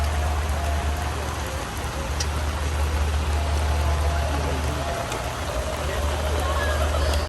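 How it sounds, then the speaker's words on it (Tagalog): Heavy rain pours down in New York City in a dense, constant hiss with a low rumble beneath, steady and loud throughout. "lakas ang ulan"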